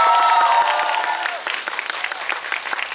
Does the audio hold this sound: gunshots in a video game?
no